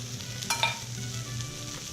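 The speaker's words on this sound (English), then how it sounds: "We're gonna put the eggs in. Man, this is gonna be so hard to flip." Vegan egg substitute for an omelette sizzles in a frying pan, a steady close hiss with a brief clatter or stir about halfway through, no talk.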